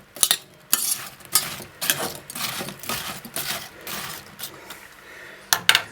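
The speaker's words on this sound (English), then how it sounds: "This is juice of 1 lemon. We'll just stir that through" Lemon juice being stirred through chopped apples in a bowl, heard as close, irregular scraping and clinking of a utensil against the bowl in several short bursts with quiet gaps between them.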